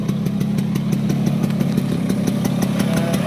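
A 2013 Piaggio Vespa PX 125 scooter idles close by, its small single-cylinder engine putting out a steady, rapid putter with no voices.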